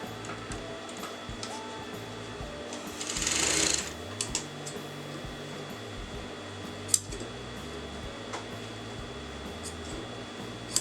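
A sewing machine stitching fabric, running in a steady mechanical whir with a louder burst of rapid stitching partway through, plus a few clicks and taps, close and without talk.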